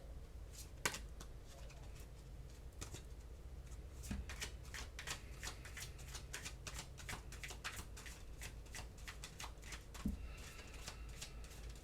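Tarot cards being shuffled by hand, a long run of quick crisp riffling flutters and soft slaps repeating at close range, with no talking over them.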